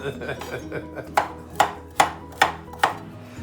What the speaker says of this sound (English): now I'm cutting them into bite-sized pieces